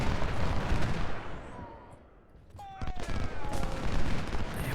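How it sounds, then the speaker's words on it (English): Musket volley fire in a Civil War video game, the Battle of Gaines' Mill: dense, continuous crackling gunfire that dips briefly and then swells again, with faint whistling tones drifting over the din. "I'm very tempted to fall back basically every time we fire a volley"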